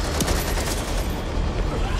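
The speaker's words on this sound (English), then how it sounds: "Who the fuck shot me?" Dense, continuous gunfire from the video game Back 4 Blood, a steady loud fusillade of overlapping shots with no pauses across the whole stretch.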